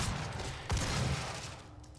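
Gunfire crackles in the video game DOOM as a dense burst of shots fires amid demon combat, loud and close, with a single heavier blast standing out partway through and no speech.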